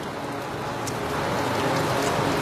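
Winter rain falls steadily as an even, continuous hiss of drops on surfaces, moderately loud with no voices.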